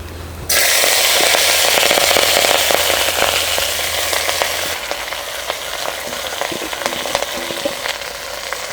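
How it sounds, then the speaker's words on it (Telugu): Ponnaganti leaves drop into a spoonful of hot oil in a pot and set off a loud, steady frying crackle that starts abruptly and continues throughout, easing slightly partway through. "అదే కుండలో ఒక చెంచా నూనె వేసుకుని పొన్నగంట ఆకు వేసేసుకుందాం"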